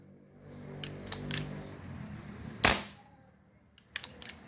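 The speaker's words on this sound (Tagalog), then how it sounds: "Pero malakas pa yung putok. Pumuputok pa siya." A single sharp pop of an Armscor CO2 air pistol shot cracks out, followed by brief hissing of gas escaping from a CO2 leak, with small mechanical clicks before and after.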